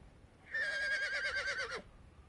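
A horse in Conan Exiles gives a single clear whinny, about a second and a half of shaky, tremolo neighing that ends in a falling tail, close and distinct against a quiet background.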